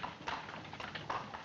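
Horse hooves clip-clop in a steady, moderately close rhythm as a horse pulls a cab along a street.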